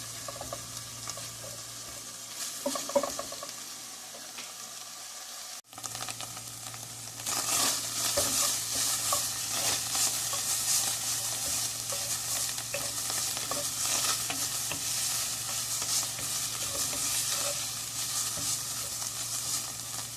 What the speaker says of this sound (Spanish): Este chorizo pues casi no tiene grasa. Y lo que vamos a procurar es que quede bien doradito.